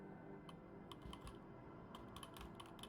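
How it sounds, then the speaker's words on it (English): Close, quiet keyboard typing on a computer keyboard in irregular clusters of clicks over steady low room noise, with no talking. "you can probably hear all of my keyboard sounds"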